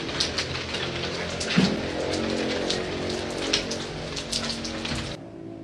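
Rain falls steadily onto surfaces outdoors in a continuous patter of drops, fairly close and even, before it suddenly cuts off near the end; no one speaks.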